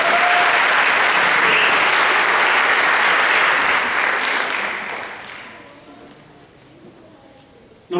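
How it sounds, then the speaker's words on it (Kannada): A hall audience at a Kannada community association event claps loudly and steadily for several seconds in honour of guests and leaders, then the applause thins out and fades to a quiet room. "ನಮ್ಮ ಮೆಚ್ಚುಗೆಯನ್ನು, ಅಭಿನಂದನೆಗಳನ್ನು ಸಲ್ಲಿಸೋಣ ಚಪ್ಪಾಳೆ ಮೂಲಕ"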